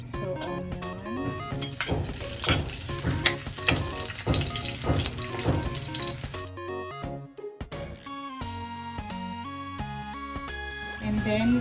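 Onion sizzles and fries in a hot pan as the base for beef caldereta, a steady crackling hiss with occasional stirring, close by under background music.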